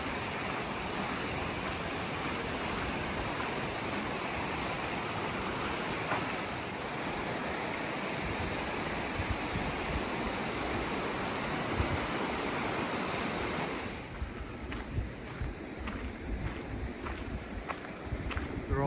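A river flows beside a riverside walk in a small town, giving a constant, full rushing wash that stays steady and close throughout and eases slightly near the end.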